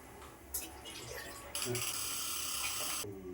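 Water is poured into a cooking pot of upsaru, a splashing, gurgling stream that starts and stops in short bursts at moderate loudness.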